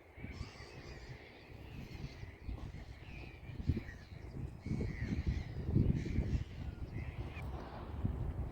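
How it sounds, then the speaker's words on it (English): Crows caw repeatedly from the distance over the water's edge on an autumn shoreline while bass fishing, with wind rumble underneath and no talk. "There's a lot of birds out there, you can hear them all in the back."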